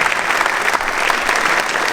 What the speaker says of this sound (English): a round of applause for yourselves as being part of Noura Homes 30 years